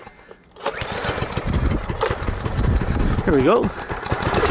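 A Simoniz 2700 psi pressure washer's small gas engine catches and settles into a loud, steady running drone after a brief quiet start, with someone speaking briefly over it.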